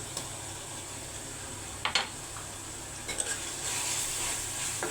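Goat head meat with ginger garlic paste, cardamom and salt being stirred in a pan, a low steady sizzle with a couple of brief scraping strokes close by.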